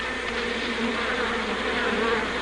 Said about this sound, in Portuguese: Para remover um enxame de abelhas ativas, como este, Chadwick começa oferecendo-lhes uma refeiçã